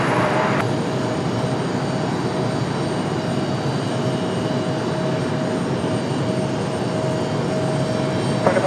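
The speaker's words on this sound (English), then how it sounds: "we got another Frontier departure" A Frontier Airlines jet departing Raleigh-Durham airport, a steady, broad roaring rumble of jet engines held at a constant level throughout, with no talking.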